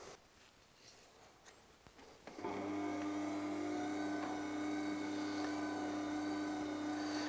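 A Record Power WG250 grinding wheel sharpens an axe held in a jig: a low, quiet rustle gives way after about two seconds to a steady, close motor whine that holds evenly to the end.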